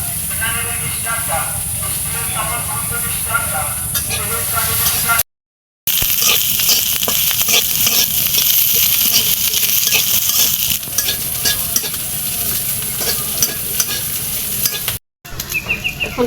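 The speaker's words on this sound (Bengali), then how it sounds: "পিঁয়াজ মরিচ ভাজা হয়ে গেছে" Onions and chilies sizzle in a little oil in a pan, a loud continuous frying hiss with scraping stirs and clinks, briefly broken by two short gaps.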